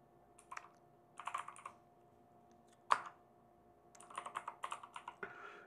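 Quick bursts of typing on a computer keyboard while writing Python code, close clusters of light key clicks separated by short pauses, with a single sharper key strike in the middle and no speech.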